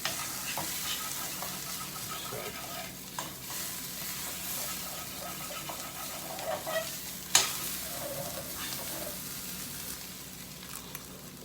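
Potatoes fry in a hot pan with a steady, broad sizzle, broken by occasional scraping stirs and a louder clack of a utensil against the pan.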